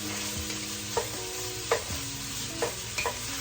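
Onions sizzle steadily in a pot for Zuppa Toscana, a continuous close frying hiss broken by several soft scrapes and clinks of a spoon stirring.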